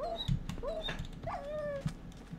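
A dog in a video game whimpers and yips in a string of short, high whines close up, with no talk over it.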